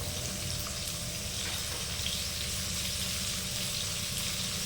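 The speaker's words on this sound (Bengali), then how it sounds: "তেলে ভেজে নেব।" Soybean pieces for a cashew soybean curry frying in oil, a continuous close sizzle with no talk over it.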